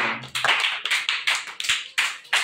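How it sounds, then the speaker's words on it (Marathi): A small group applauds a student receiving a silver coin at a prize distribution, with distinct, rhythmic claps landing in a steady beat, close and moderately loud, with no talk. "फिर से टाळी"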